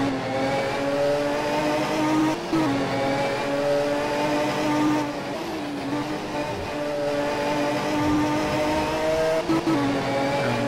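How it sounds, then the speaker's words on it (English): A Volvo touring car races at a 1985 New Zealand touring car round, its engine droning and revving continuously, close and loud, with brief dips as it shifts gears through a corner. "listen to that beautiful Volvo engine working away as he goes into Euromark"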